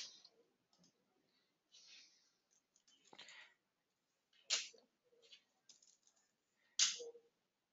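Sharp, faint mouse clicks on the Add Financing button in finance software, a few separated taps spread over a quiet stretch with small desk noises between.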